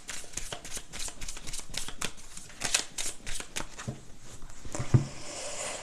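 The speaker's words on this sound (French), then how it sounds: "Je vais brasser les cartes devant eux" Tarot cards being shuffled by hand, rapid papery riffles and flicks in quick uneven bursts, close and fairly soft, with no talking over them.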